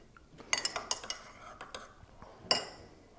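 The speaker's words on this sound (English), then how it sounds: "you can squeeze out a tea bag quite easily with a spoon" A metal spoon clinks against a cup while squeezing a tea bag in brewed tea, making a cluster of light taps and scrapes and then one sharper clink near the end. The sounds are close-up and quiet, with no talking.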